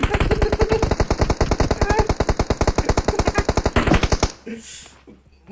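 Rapid automatic gunfire in the PUBG Mobile shooter game rattles out as a long, evenly spaced string of loud shots, then stops abruptly, leaving quieter game sounds.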